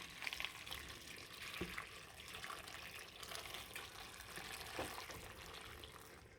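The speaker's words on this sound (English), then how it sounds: "Now I'm going to pour the hot water inside the pasta in the pot." Hot water pours into a pot of fettuccine pasta in a steady, soft gushing stream. It is fairly faint and continuous, with no talking.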